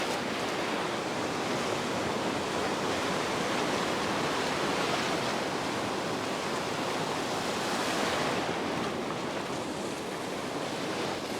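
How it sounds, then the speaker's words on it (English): Ocean waves break and wash in a continuous surging roar, nearby and loud, with swells swelling slightly around the middle of the stretch and no voices over the surf. "The waves actually are all right, but when they wedge together, They get a bit bigger."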